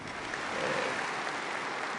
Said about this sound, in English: I ask for a hearty round of applause from everyone here in support of this